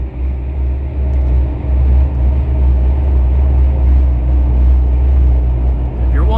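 A car's engine rumbles steadily from inside the cabin while it is driven, a low continuous drone with a brief rising whine near the end.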